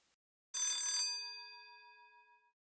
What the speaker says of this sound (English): The bell rang just as the song ended.